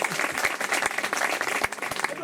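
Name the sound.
audience applause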